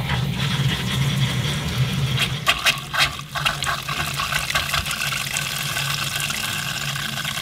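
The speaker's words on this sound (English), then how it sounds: "Woohoo, we have water, Eric did it." Water gushes from household plumbing in a newly settled home, a loud rushing flow with sputtering bursts as air clears the pipes, then settling into a steady stream.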